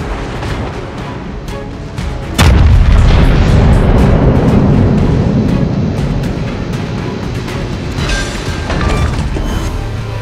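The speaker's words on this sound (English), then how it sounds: "Concentrate fire on the enemy warship." Main battery of the battleship Musashi firing in World of Warships, a massive booming salvo that hits suddenly, then rumbles and rolls on loudly for several seconds over ongoing battle noise.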